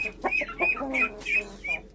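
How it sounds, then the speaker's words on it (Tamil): Repeated harsh, nasal quacking calls from a duck, several in quick succession, close and fairly loud with short pauses between them. "வாத்துக்கு தண்ணி வைக்கலையா காலையிலேருந்து கச்ச கச்ச கச்ச கச்சன்னு வருது"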